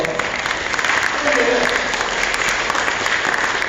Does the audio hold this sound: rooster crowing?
no